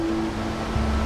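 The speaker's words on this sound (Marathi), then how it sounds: "इथल्या बिकट वाटेवर असा धबधबाही आहे" Waterfall along a rugged forest trail near a village in Konkan, heard as a steady, close rush of falling water, dense and continuous with no voices over it.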